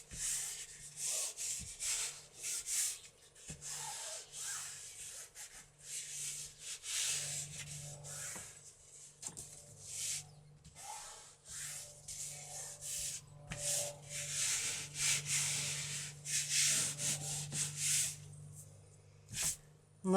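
Paper is rubbed down by hand onto a hardcover journal cover. Soft, papery scrubbing strokes repeat in an uneven rhythm, quiet and close, with brief pauses between bursts and no voices.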